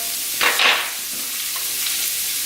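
Leeks sizzling in heated olive oil in a pan, a sudden hiss as they hit the oil and then a steady quieter crackle, close up with no talking.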